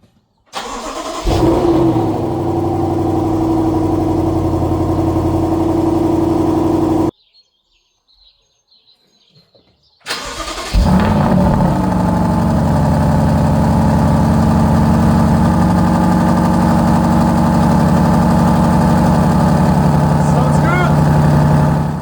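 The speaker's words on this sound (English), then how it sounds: "We'll find the car keys and do a cold start." A BMW M550i with a Remus cat-back exhaust cold-starts with a loud, close flare into a steady idle. The engine cuts to near silence for a few seconds, then starts again and settles into a rumbling idle.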